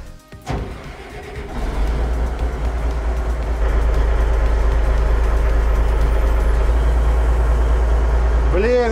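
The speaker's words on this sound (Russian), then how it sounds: "Сейчас поедем на 40-тонном бульдозере" A 40-tonne Zauberg bulldozer starts up and moves in short runs back and forth, its heavy engine settling into a loud, steady deep rumble with clanking near the end. Someone talks over it.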